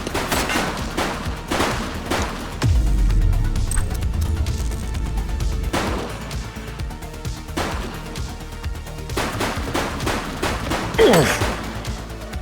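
Gunfire in The Precinct video game: scattered loud shots and short volleys cracking out at irregular intervals over a low rumbling background, with some crashing impacts.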